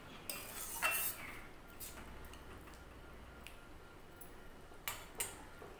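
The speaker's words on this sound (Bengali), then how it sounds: "ভালো করে আবার আলু বেগুনের সাথে মরলা মাছ মিশিয়ে নেব।" A spoon stirs mola fish together with potato and eggplant in a pan, giving faint, scattered clinks and scrapes of metal against the cookware in a quiet room.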